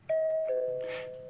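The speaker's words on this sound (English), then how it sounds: "That's the doorbell." A two-tone doorbell chime, one clear ding followed by a lower dong, ringing alone and ringing out as it fades.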